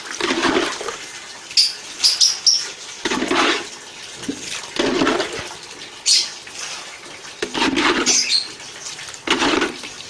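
Water being poured into a pot during home distillation of a herbal extract, heard as several splashing, gushing bursts separated by short pauses, loud and close.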